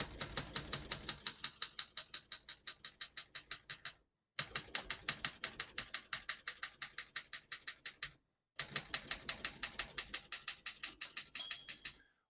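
Rapid, even keystrokes clack on a 1970 Olympia SM9 portable manual typewriter in three bursts, separated by brief pauses, close and crisp.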